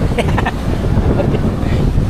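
Strong typhoon wind blows at sea on the Pacific Ocean, buffeting a fishing boat with a steady, roaring low rumble that presses against the microphone, close and heavy, with faint voices underneath.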